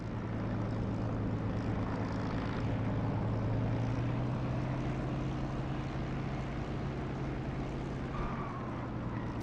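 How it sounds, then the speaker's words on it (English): An aircraft engine drones steadily on landing approach with flaps down in a combat flight simulator game, a loud continuous propeller hum with a strong low tone that stays nearly constant, alone without talk. "you should hear a change in engine volume once we get close to the runway."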